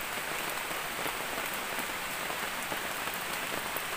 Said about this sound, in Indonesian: hari ini hujannya kayak cuma apa ya, gerimis, tapi gerimisnya gerimis-gerimis gede gitu